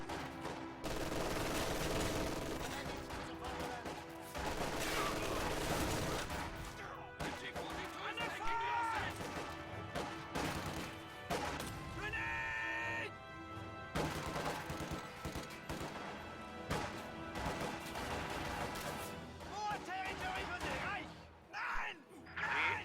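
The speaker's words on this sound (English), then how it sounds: "MG42 firing on those conscripts behind that green cover wall." An MG42 machine gun fires in a strategy video game, its rapid bursts packed into a continuous, loud wall of layered battle noise with explosions and impacts.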